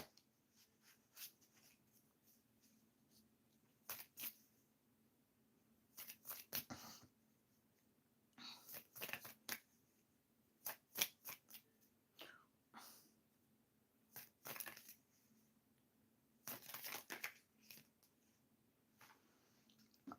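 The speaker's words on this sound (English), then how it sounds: "I'm shuffling the cards for you" Tarot cards are shuffled in soft, quiet bursts of riffling and sliding, recurring every few seconds with pauses between, close up in a quiet room without speech.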